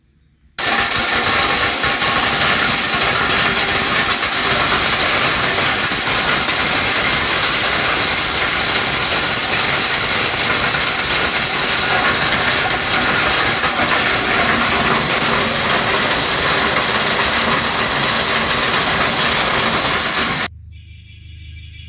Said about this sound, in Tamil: அரைக்கிற மிஷினுங்க, புண்ணாக்கு அரைக்கிற மிஷினு